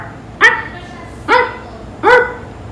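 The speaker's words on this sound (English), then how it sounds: "Bark. Say one. Bark." A dog barks on command, three short loud yips spaced about a second apart, close by against a quiet background.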